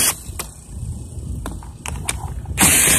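A ratchet works the 10 mm bolts on top of a Champion 2000 W generator that has a no-spark fault. A few close, sharp clicks and metallic taps sound over a steady low background hum.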